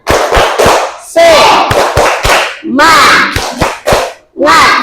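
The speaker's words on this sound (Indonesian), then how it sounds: "kita akan tepuk semangat" Children standing in a classroom doing the tepuk semangat chant, loud rhythmic bursts of clapping alternating with shouted chanting voices, near and energetic.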